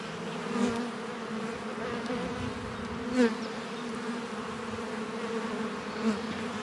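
Honeybees buzz steadily throughout a beehive inspection, a dense continuous hum with a few louder passes as bees fly close by; no one speaks.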